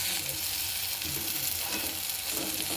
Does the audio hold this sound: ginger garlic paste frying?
yes